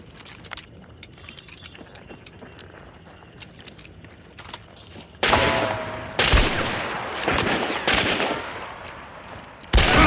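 Gunfire in the survival game Mist Survival: scattered faint clicks and taps, then a loud sharp shot followed by several more heavy, echoing reports and a final close blast, with no talking.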